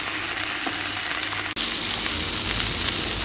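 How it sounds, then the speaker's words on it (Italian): A prawn sears flesh-side down in a hot pan as a chef cooks a seafood risotto, giving off a loud, steady sizzle and frying hiss with one brief dropout partway through. "mi vado a scottare il gamberone dalla parte della polpa"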